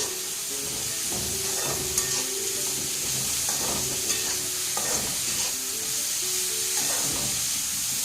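Bitter gourd pieces fry in oil while being stirred, making a loud, continuous sizzle punctuated by repeated scraping stir strokes at a steady rhythm, close up with no speech.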